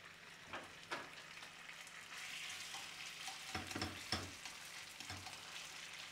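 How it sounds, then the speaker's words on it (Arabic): Chicken pieces frying in hot vegetable oil in a pan, a steady crackling sizzle with a few sharper pops and stirring knocks, close and fairly quiet, no voices. "هلا حمي زيتي بشكل منيح وبوضع هيدا الدجاج"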